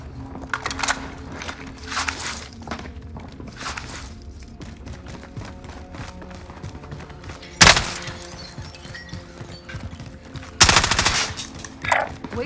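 Video game gunfire rattles in sharp bursts with scattered single shots and two loud, near blasts, all over faint background talk and ambient noise.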